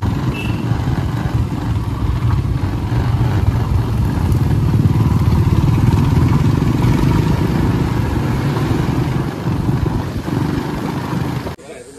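Motorcycles on a group celebration ride marking 50 years of Sikkim statehood produce a steady, loud engine rumble with road noise that holds without pause throughout, ending abruptly.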